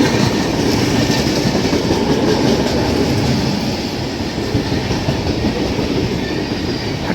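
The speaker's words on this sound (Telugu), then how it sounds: "ఇంకో బండి వచ్చింది." Train passing on a railway track in India between Secunderabad and Srikakulam, a loud continuous rumble with rhythmic clickety-clack of wheels over rail joints, close by and steady throughout.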